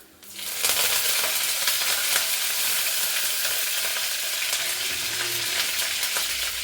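Mustard seeds, cumin and curry leaves hit hot oil in a pan, breaking into an abrupt, loud, continuous sizzle with crackling pops that holds steady.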